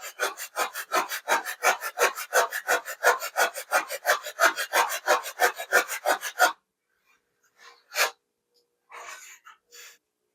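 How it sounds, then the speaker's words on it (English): Hand sanding on the wooden fin of a giant scale P-47 Razorback RC plane gives a rapid run of rhythmic rasping strokes that stops abruptly, followed by a few isolated scrapes and rubs. "I need to start sanding the front."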